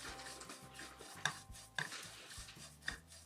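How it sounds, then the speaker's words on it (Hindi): Sesame seeds roasting in a pan for gajak: soft crackling and small pops over a steady scraping stir, with a few sharper snaps standing out. "अब इनमें से स्प्लैटर होने की आवाज़ भी आनी स्टार्ट हो गई है, तड़कने की आवाज़ भी आ रही है"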